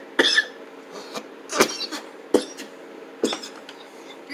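A man coughs several times in short, sharp bursts spread across a few seconds, close and fairly loud, with quiet room background between them.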